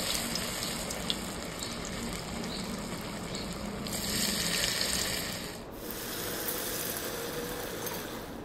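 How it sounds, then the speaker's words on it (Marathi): Alu vadi, rolled colocasia leaves, fry in hot oil that has just been used for puris, giving a steady loud sizzle and hiss. The tone briefly brightens and softens partway through. "मग त्याच गरम तेलात घातले अळू वडी."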